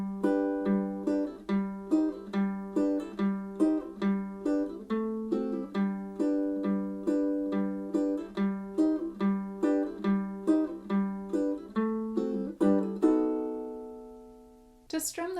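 Ukulele strumming the verse of a song at play-along tempo, even single down strums ringing in a steady rhythm, clear and close with no talking, the last chord left to fade.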